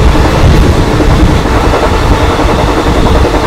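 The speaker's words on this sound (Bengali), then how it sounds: "ট্রেন কিন্তু ছেড়ে দিয়েছে ফতেপুর" The Netaji Express, a passenger train with ICF coaches, rumbles loudly along the rails in a continuous roar from inside the carriage, with rhythmic clatter running throughout and no voices.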